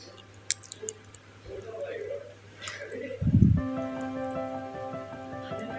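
Strawberry jam being mixed into a vanilla ice cream base makes soft, wet squishing and light dripping sounds, then a brief low thump, followed by steady tones.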